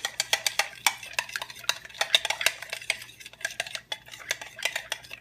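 A spoon stirs milk in a pot while homemade yogurt is made, a quick run of sharp metallic clinks and taps against the pan, irregular and close. No voices are heard.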